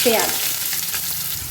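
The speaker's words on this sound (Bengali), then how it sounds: "পেঁয়াজটাকে আমি ভালোভাবে একটু ফ্রাই করে নেব।" Chopped onion fries in a pan with whole garam masala, dried red chillies and hing, a brief close sizzle with stirring scrapes and a short clatter at the start.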